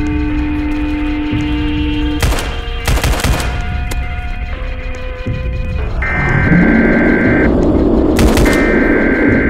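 Rapid SMG gunfire rattles in the Roblox game Siren Head, with dense bursts of shots over a humming, throbbing electronic soundtrack, loud and without voices.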